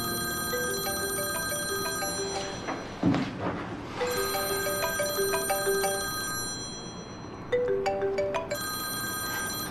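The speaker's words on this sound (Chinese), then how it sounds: "你知不知道你这个电话很不合时宜啊？" A telephone rings in clear, bright electronic bursts, repeating in a regular pattern with short pauses and a soft thump partway through.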